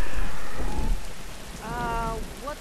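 Steady rain patters in The Last of Us Part 2, overlaid by a low distant rumble of thunder that swells and fades across a few seconds, with faint tonal game sounds rising near the end.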